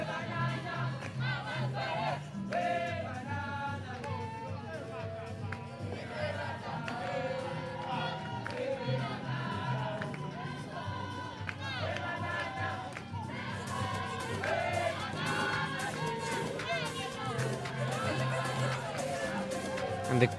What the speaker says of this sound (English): And the crowd is beautiful here. Everybody's in the spirit of singing.